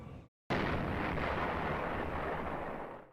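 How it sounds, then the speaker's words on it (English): A single deep explosion booms out after a moment of silence, its low roar swelling loud and rolling on before slowly fading, part of a dramatized Pearl Harbor attack scene. "An explosion in the distance, but hits us so close to home."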